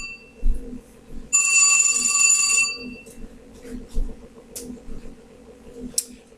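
A phone rings in one sustained electronic burst of about a second and a half, fairly loud, over a quiet room with low background noise and faint knocks.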